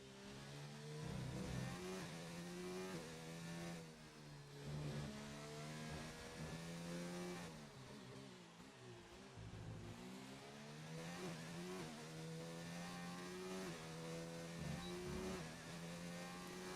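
F1 car engine from the F1 2019 racing game, Australian GP, screaming down the pit straight with DRS open, a sustained high revving whine with gear-shift dips, steady and fairly close.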